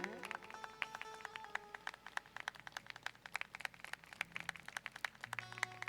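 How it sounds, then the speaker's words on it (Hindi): Audience clapping at a religious gathering and katha recital: scattered, fairly faint hand claps in an uneven rhythm with a few louder sharp claps, behind a low tonal background. "बजाते रहिए जोरदार तालियां।"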